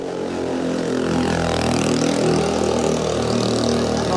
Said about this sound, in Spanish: No me acaba de pasar una moto de cilindraje 1000.